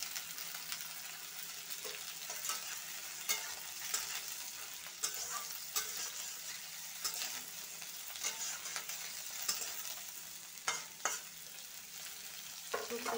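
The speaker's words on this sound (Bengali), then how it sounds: "ফুলকপি আলু আর পেঁয়াজগুলো আমি ভালো করে ভেজে নেব।" Cauliflower, potato and onion fry together in a pan, a continuous close sizzle broken by frequent clicks and scrapes of stirring.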